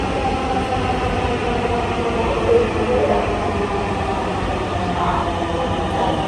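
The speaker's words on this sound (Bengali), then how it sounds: "একটা মাত্র একটা মেট্রো চলে আসলো" A Dhaka metro rail train arrives at a station with a loud, steady rumble of wheels and motors filling the platform, with faint voices in the background.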